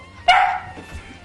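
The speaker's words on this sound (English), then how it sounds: "Next time he starts the barking, next time he starts to bark, no." A single sharp bark from a dog during a training session, loud and close, followed by a quiet room.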